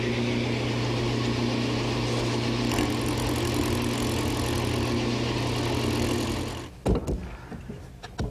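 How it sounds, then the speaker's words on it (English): A wood lathe turns a laminated tiger maple table leg for a washstand, giving a steady, loud motor hum with a faint whine, then winding down and ending with a few knocks and clunks. "With the leg remounted in the lathe, I can trim the top area of the lamination and complete the turning."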